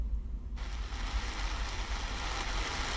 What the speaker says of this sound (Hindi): अभी भी बारिश लगातार जारी ही है।